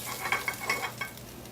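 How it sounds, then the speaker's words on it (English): Grouper sears in a hot pan with a soft, fairly quiet sizzle, broken by a few quick scraping stirs over under two seconds. "You want to hear that sizzle. That means your pan is hot enough."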